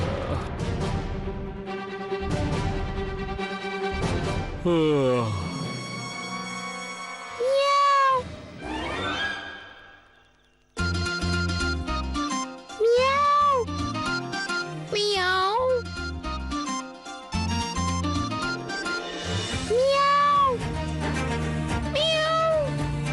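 A cat on a rooftop terrace meows repeatedly, loud and close, each cry rising and falling, amid busy clattering background noise with a brief drop-out midway.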